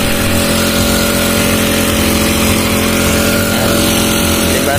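A Makita petrol grass cutter runs on Pertamax fuel, its small two-stroke engine droning steadily and loudly at close range with a constant buzzing hum throughout.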